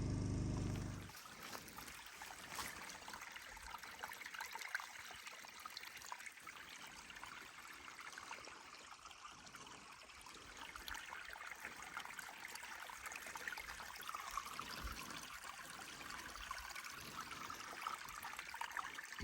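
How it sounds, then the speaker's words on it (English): Natural spring water trickling steadily at a Northern Ontario off-grid cabin site, a soft continuous burble and splash at moderate distance, alone without voices. "Natural, beautiful spring."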